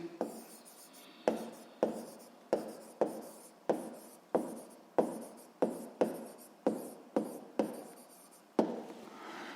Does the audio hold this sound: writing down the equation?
yes